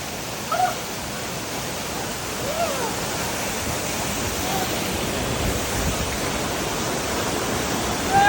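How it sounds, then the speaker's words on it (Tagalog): Twin falls waterfall, its third cascade, roaring as a steady broadband rush of falling water, loud and close, unbroken throughout with only faint other sounds. "At yun yung pangatlong falls."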